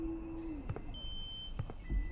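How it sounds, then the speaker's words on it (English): Electronic phone ringing in the horror game The Shadow Over Route, set in a store on a night shift, heard as a steady high-pitched tone with repeated short beeps over a faint low ambient hum. "Phone's going off the hook."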